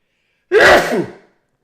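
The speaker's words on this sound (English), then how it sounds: "I'm going to sneeze." A single loud human sneeze bursts out after a moment of silence, a sharp explosive onset trailing off over about half a second, close to the microphone, followed by silence.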